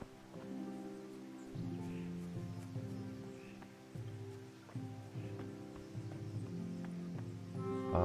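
A horse in the medieval video game Kingdom Come: Deliverance, with steady clip-clop hoofbeats and a neigh over a quiet outdoor ambience of light rain and rustling leaves.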